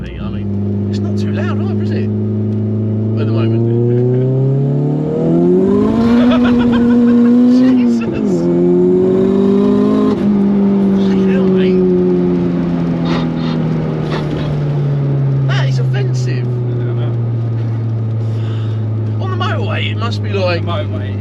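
A tuned 412bhp VW Lupo GTI with a 1.8T engine droning loudly from inside the cabin, revs climbing then settling into a steady cruise, while people talk over it throughout.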